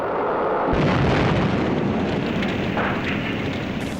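A loud, sustained roaring blast from a WWII German V-2 rocket, launch or explosion, starting with a sharp onset and rumbling on heavily throughout.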